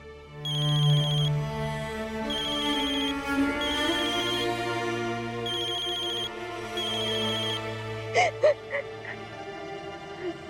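A phone rings with an incoming call from a brother, repeating melodic ringtone phrases over a soft musical background, and a few brief sharp sounds near the end.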